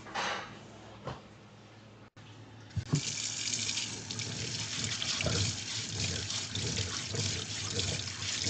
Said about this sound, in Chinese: 咱们先去把蔬菜清洗一下